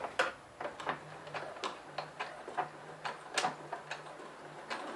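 A sewing machine stitches the fabric point of a napkin holder, giving quiet, quick mechanical ticks in short uneven bursts with brief pauses, close and faint.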